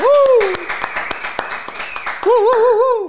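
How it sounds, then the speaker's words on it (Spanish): A few scattered hand claps ring out alongside a warbling, sustained voice-like tone, sparse and close rather than a full crowd ovation. "Muchachos, vamos a darle un aplauso"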